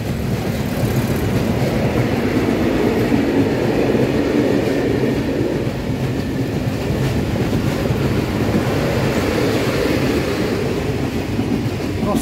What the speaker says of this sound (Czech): přes něj přijíždějí ty vlaky z Bratislavy